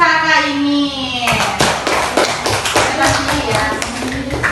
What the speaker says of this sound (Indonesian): Tepuk tangan untuk kakak ini.